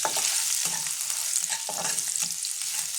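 Chopped garlic and ginger fry and crackle in hot oil, a dense, steady sizzle with occasional stirring scrapes, close and loud, with no talking.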